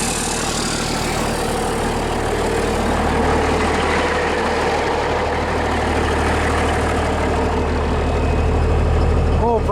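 A 1977 Freightliner cabover truck's diesel engine idles steadily after its first start in a year, a loud, continuous low rumble that holds even throughout.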